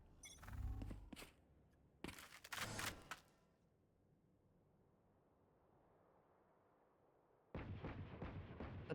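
Sharp bursts of gunfire striking a wall in a tactical first-person shooter match, two loud clusters early on, then near silence before another heavy burst returns at the end.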